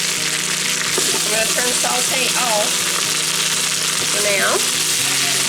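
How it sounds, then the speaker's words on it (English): Garlic sizzles in an Instant Pot on the sauté setting, a loud, constant hiss close by while a person talks over it. "Okay, we're going to put in the garlic."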